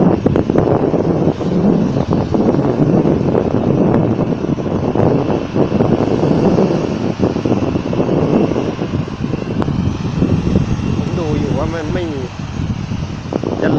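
At Phuket airport near Mai Khao Beach, a landing airliner's engine roar rumbles steadily through buffeting wind noise on the microphone, with people talking nearby over it.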